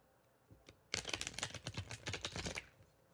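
A rapid run of crisp, papery flutters as a deck of tarot cards is riffled and shuffled close up, lasting a couple of seconds, with no talking.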